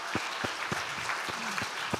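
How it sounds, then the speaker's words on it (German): Conference audience applause heard as a steady wash of clapping, with a few louder low thumps in a regular beat, moderately quiet overall. "mit einem großen Applaus"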